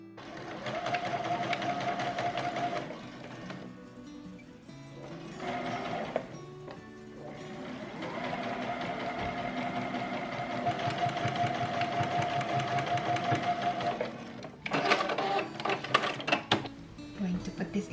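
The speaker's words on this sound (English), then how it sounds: "I am just going to sew it right here." A sewing machine stitches a sleeve seam on a thrifted top, its steady mechanical whirring running in a few bursts with brief breaks, followed by some handling clatter near the end.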